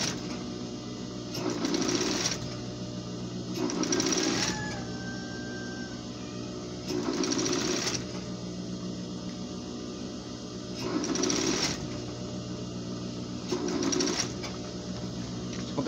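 Sewing machine stitches a coat front pocket with cover in repeated short bursts, each a couple of seconds of fast whirring with pauses of a second or two between, close and clear over a steady background hum.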